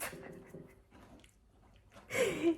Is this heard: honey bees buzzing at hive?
no